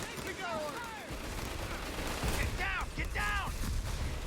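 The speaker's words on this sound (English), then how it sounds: "Captain deploys his mortar." Mortar fire in the video game Company of Heroes, battle sounds with a few heavy blasts over a steady din of gunfire, with whistling shells arcing overhead.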